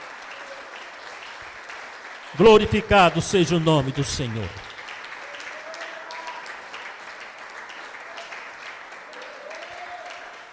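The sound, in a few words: church congregation applauding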